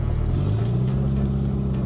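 A car engine running on cooking oil hums at a steady low rumble while driving, close and continuous with light road noise and no speech.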